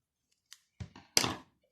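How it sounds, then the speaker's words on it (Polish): Scissors snip a small hole in material for Halloween hand makeup, with a few short crisp cuts close up, the last one louder and longer, and no talking. "taką dziurkę sobie wycinam"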